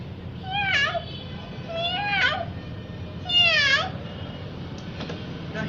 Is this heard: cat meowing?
yes